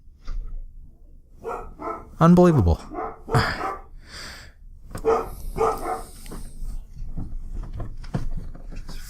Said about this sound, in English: Fucking dogs.